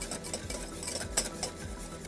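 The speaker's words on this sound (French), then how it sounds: "la crème citron colle très vite au fond de la casserole, il ne faut pas arrêter de mélanger." A utensil scrapes and stirs lemon cream around the bottom of a saucepan in steady repeated strokes, with occasional light clinks and no voices.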